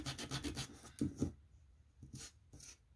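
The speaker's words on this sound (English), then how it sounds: "I'm going to use the sanding tool just so it all blends in together, and take some of that edge off" Quick rasping rubs of a sanding tool against a paper edge in short bursts, a rapid run of strokes, then a pause and a few more strokes, close and quiet.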